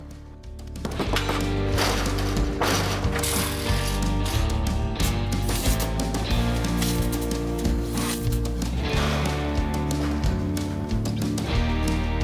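Hand snips cut an angle into sheet metal scrap screwed down to a trailer for a camper shed build. Loud, close, repetitive crunching clicks run continuously, like a ratchet.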